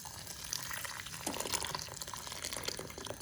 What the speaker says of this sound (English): And then pour boiling water,